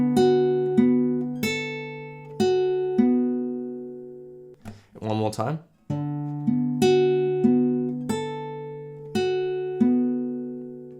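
Fingerpicked acoustic guitar plays a song: steady plucked bass and melody notes ringing into one another, broken midway by a short spoken phrase before the picking resumes.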